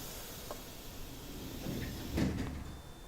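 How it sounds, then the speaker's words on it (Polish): Doors on an EN57 electric multiple unit close in the SimRail train simulator, a soft sliding rumble ending in a muffled thump, faint against a steady background hum. "Literka O, zamykamy drzwi."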